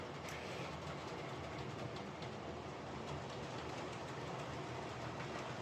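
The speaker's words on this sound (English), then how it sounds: "Just waiting for this train to come back out again." A model train rumbles steadily along its layout track with a constant whirring hum and faint clicking, moderately quiet and continuous.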